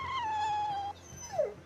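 Dog whimpering in the Tales of Berseria video game: a long, steady high whine that stops abruptly, then a shorter whimper sliding downward, close and fairly quiet with no speech over it.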